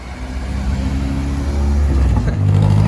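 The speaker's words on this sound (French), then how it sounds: "Une autre voiture tunée encore, hein. Cette Honda Civic." Tuned Honda Civic engine revving close by, a steady low drone that swells louder toward the end, with no talk over it.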